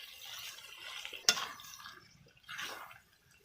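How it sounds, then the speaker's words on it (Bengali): Soaked chow mein noodles are stirred in a pan in a home kitchen, quiet scraping and sloshing with a sharp metallic clink of the utensil partway through, then a soft swish. "এইভাবে নেড়ে নেড়ে নিচ্ছি"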